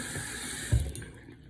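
Tap water running into a sink while makeup brushes are being cleaned, a brief soft splash with a low burst of flow near the middle, heard close.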